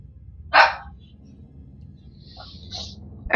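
A single loud dog bark rings out close by, followed by a quieter room with a few faint, brief higher sounds before another sharp noise at the end.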